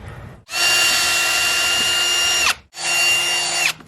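A power drill whirs loudly and steadily for about two seconds, stops briefly, then runs again for another second; close and alone, no voices.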